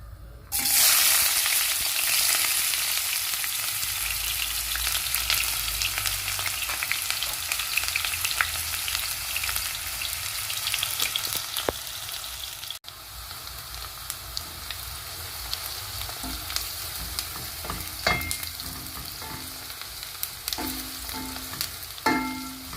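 Chopped onions frying in a pot for black beans, a loud, bright sizzle right from the start that settles into a steady crackle with occasional stirring pops, continuing alone and close.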